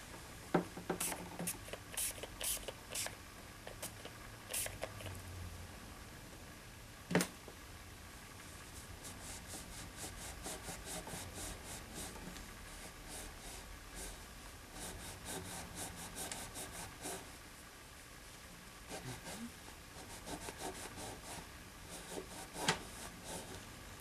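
Steady rubbing and scrubbing on a guitar as grime is worked off with cleaner, close and quiet, with a continuous gritty friction texture broken by occasional sharper scrapes and taps; no talking.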